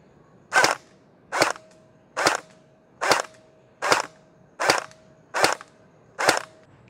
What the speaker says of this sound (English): So for sure these hardened gel balls are shooting harder than the stock gel balls.